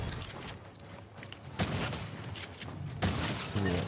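Bursts of small-gun fire in a video game, sharp clustered shots at close range with two louder volleys, set against a steady busy background of game noise.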